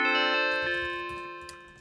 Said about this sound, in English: There we have something more similar to a bell.